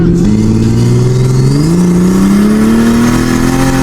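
A race car launches hard and accelerates, its loud engine note climbing steadily in pitch over a few seconds, close and continuous with no talk.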